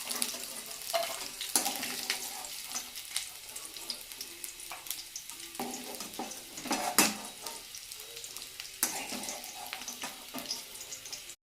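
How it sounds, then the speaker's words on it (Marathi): Onion sautéing in hot oil, a continuous moderate sizzle broken by repeated scraping and stirring strokes of a spoon against the pan. "आपण याच तेलामध्ये थोडासा कांदाही परतून घेऊया."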